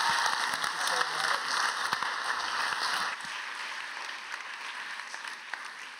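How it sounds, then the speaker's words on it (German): A church congregation applauds after a woman named Chanti shares her story, a broad wash of clapping throughout that fades slightly after the first few seconds, with some talk under it. "Lass uns einen Applaus geben für Chanti."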